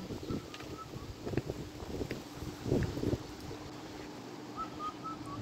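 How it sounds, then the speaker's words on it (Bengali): Strong wind blows across a lakeside eco resort park in Barguna, a rushing, buffeting roar against the microphone with gusting swells and a few faint whistling tones, no speech. "এখানে কিন্তু প্রচন্ড বাতাসও।"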